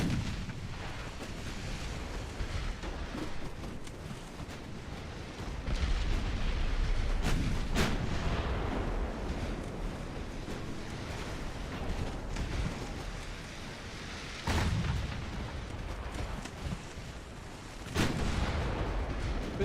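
Naval secondary guns fire in the naval warfare game Ultimate Admiral Dreadnoughts, heard as loud, booming, irregular volleys of artillery over a constant rumbling battle backdrop, with no voices.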